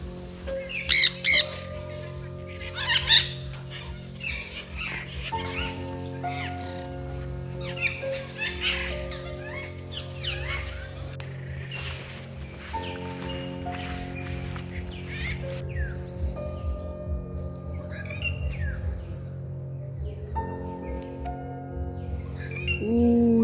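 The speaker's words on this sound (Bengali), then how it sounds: "হলুদ টিয়া মনে হচ্ছে একটা" A yellow parrot in the Bibhutibhushan wildlife sanctuary forest squawks in loud, harsh bursts, clustered early on and returning at intervals over a constant low tonal hum and quieter bird chirps.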